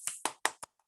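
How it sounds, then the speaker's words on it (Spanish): Four sparse, separate hand claps in a classroom, close and fairly crisp, spaced unevenly over a second with a faint tap at the end, from only a few students. "¡Aplausos!"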